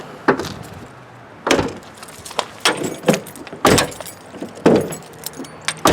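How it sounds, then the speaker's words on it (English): Car keys jangle in sharp, loud bursts beside a 2008 Chevy Equinox during door lock work, several irregular metallic rattles and clinks spread over a few seconds with no talking. "Keys."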